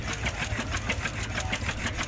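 A Hicks marine engine built in Yuba City, California runs steadily and loud, a fast, even chugging rhythm with no pauses and no voices.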